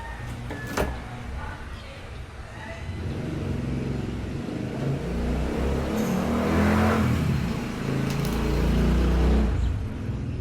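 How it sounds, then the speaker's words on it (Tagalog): Road traffic on a main road rumbles past at a moderate distance, swelling as vehicles approach and pass, with faint background voices. "Naririnig niyo yung sasakyan, no?"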